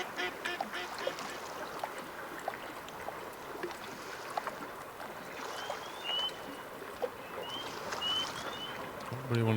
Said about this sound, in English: Don't really want to go where the ducks are.